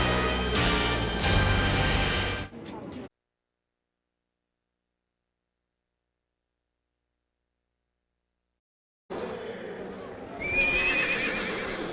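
A horse whinnies loudly alongside hoof clip-clops in a Monday Night Football broadcast segment, sound bursts in two stretches separated by several seconds of total silence.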